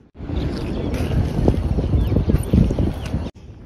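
Strong cold wind at Bordi beach roars and buffets the microphone in a loud, continuous rumble with gusting surges, cutting off briefly near the end.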